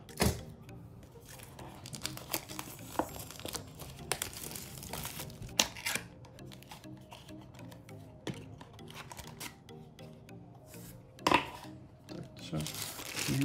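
Packaging of a Ugreen Lightning cable being opened by hand, with repeated crinkling and tearing of plastic and cardboard, close and fairly quiet, in irregular bursts with sharper crackles near the start, middle and end.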